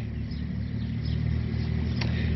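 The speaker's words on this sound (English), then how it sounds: "somebody's poor beat up old truck is going by" A beat-up old pickup truck drives past a botanical garden with a low, steady engine rumble that swells slightly as it nears, and one brief bird chirp is heard.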